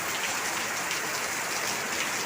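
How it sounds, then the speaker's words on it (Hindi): Heavy morning rain pours down steadily outside a home, a dense, even hiss of drops on surfaces with no pauses and no voices. "लेकिन बहुत ज़ोर से बारिश आ रहा है"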